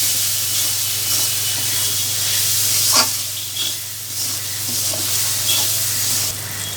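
Spices with turmeric stirred and fried in a pan for a desi chicken curry with potatoes: a steady close sizzle and hiss with occasional soft scrapes and clinks, no talking, over a constant low hum.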